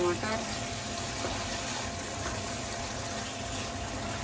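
Biryani gravy with yogurt and tomato fries in a pan with a steady, soft sizzle and bubbling hiss. Faint background noise sits under it.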